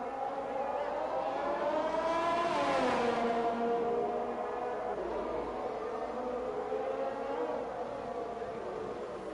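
Race car engines in a racing video game scream at high revs side by side on the Imola circuit, pitch sweeping up then easing as they pass through a corner, loud and sustained.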